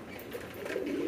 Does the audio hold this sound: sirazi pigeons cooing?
yes